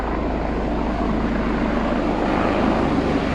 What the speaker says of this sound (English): So there's a chopper going over.